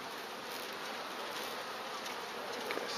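An active beehive gives off a steady, dense buzzing of many bees, even and moderately quiet throughout, with no talk.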